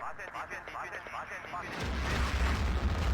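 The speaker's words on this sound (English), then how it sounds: "Artillery coming down on the center flag." Artillery shells landing in a 16v16 online battle game: a rumbling, heavy boom swells in partway through and lingers as a low, sustained roar, following a stretch of muffled background noise.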